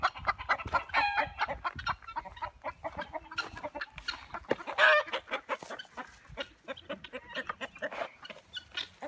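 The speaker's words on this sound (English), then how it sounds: "I got chickens and my chickens love this" Backyard chickens clucking and squawking close by, busy overlapping calls with occasional louder bursts, no talking.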